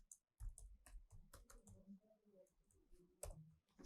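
Typing on a computer keyboard while writing Python loop code, a run of quick uneven key clicks with a few heavier presses, close but quiet, no talking.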